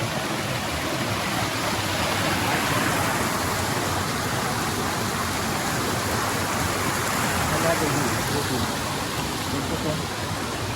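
Heavy rain pours in a forest alongside rushing water, making a dense, unbroken hiss and roar that holds steady throughout.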